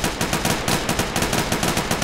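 Automatic gunfire in the Arma 3 video game rattles out in quick, loud, evenly spaced bursts, with a close, sharp, continuous rhythm and no talk over it.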